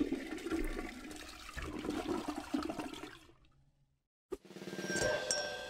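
A toilet flush in the video game Smile for Me rushes loudly for about three seconds and cuts to silence, then a short click and a refilling, gurgling water sound follow.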